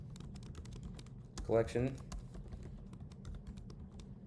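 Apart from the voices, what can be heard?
typing on a computer keyboard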